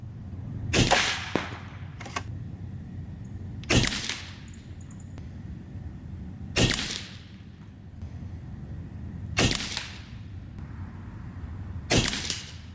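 Five sharp, loud shots from a Skout EVO .22 caliber air rifle at a 37-yard range, fired from a sandbag rear rest, evenly spaced about every three seconds with quiet gaps between and no talk.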